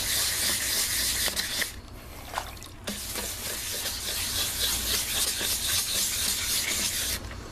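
Hand-sanding a plastic headlight lens with 800 grit sandpaper, a steady close scratchy rasp of repeated back-and-forth strokes, wet and hissy, with a couple of brief pauses and no talking.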